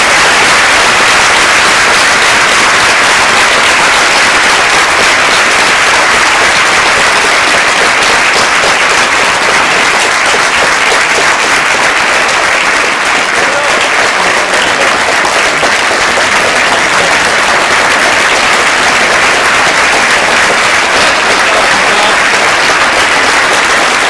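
A large audience gives sustained applause for veterans standing in a ceremony, loud and unbroken clapping that holds at a constant level throughout, with a slightly harsh, noisy quality.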